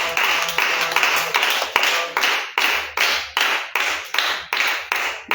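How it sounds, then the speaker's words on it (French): A church congregation claps in steady unison, each clap landing sharp and bright in an even rhythm of roughly two per second, loud and close, with no talk over it. "On va acclamer Jésus."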